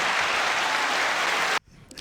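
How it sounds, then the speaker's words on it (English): Loud, dense applause from a crowd, steady and sustained, then cutting off abruptly near the end to near silence. "He didn't warn us about that applause. That was kind of loud."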